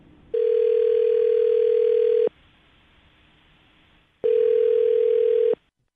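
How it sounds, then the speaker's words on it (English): Two long, loud steady telephone tones sound alone, one about two seconds and a shorter one after a quiet gap, like a ringback while a call is placed to a man's phone. "I'm going to dial his phone number right now and see if he picks up"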